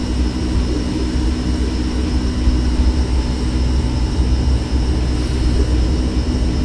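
An airplane engine in the X-Plane 11 flight simulator drones on in a loud, unbroken whine and rumble, with no voices over it.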